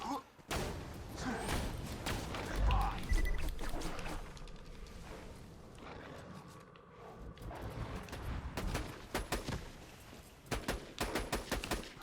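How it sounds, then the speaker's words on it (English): Full-auto gunfire in Borderlands 2, rapid bursts of sharp shots in clusters, interspersed with quieter stretches of game ambience and water-like movement sounds. "Had enough bullets, so I went for the full auto."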